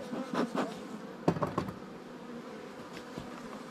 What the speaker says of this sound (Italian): Le api sono tante.